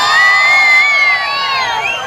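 A crowd cheers and whoops for Kannada film star Darshan, with loud, overlapping shouted voices and rising calls that hold steady for about two seconds.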